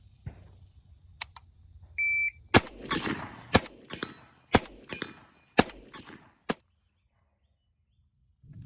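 Single shots from an AK rifle firing copper-jacketed ammunition crack out one at a time, about seven sharp loud reports with short gaps, each ringing briefly, plus a short electronic beep.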